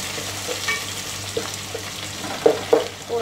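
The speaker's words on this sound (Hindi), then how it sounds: "तेल और घी साथ में गरम हो गया है, इसमें प्याज ऐड कर देंगे।" Onions sizzle and fry in hot oil and ghee while being stirred, a steady close crackle with a few louder spoon-scrape clatters near the end.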